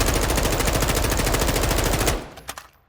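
M4 rifle fire in Modern Warfare 2, a rapid, loud, steady full-auto burst of evenly spaced shots lasting about two seconds, then cutting off into a few fading echoes and stray pops.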